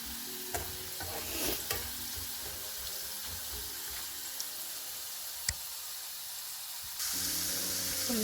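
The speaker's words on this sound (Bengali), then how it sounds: "এখন সুন্দর ফ্রাই হচ্ছে, যতটা নেবা আজে ভাজা যায়।" French fries frying in oil over a low gas flame give a steady broadband sizzle throughout, with a few clicks and faint clatter, and the hiss swells louder near the end.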